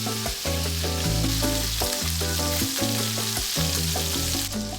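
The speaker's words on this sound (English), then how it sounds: "And I like to add a little bit more salt and pepper on the other side while it's in the pan." A salmon fillet seasoned with salt and pepper fries in a pan, making a loud, close, steady sizzle that runs throughout with no talking.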